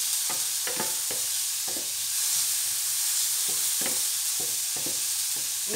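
Onions frying in a pan sizzle with a constant hiss while a utensil stirs them, scraping and knocking in irregular strokes, close by.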